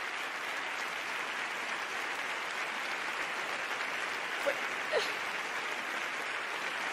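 Theatre audience at a hospital oncohematology unit's medal award event giving steady, sustained applause, an even wash of many hands clapping at a distance, with a couple of brief louder claps near the end.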